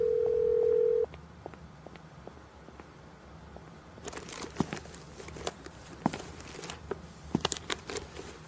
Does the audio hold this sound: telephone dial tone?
yes